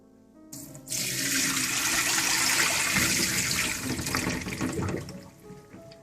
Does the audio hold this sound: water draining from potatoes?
yes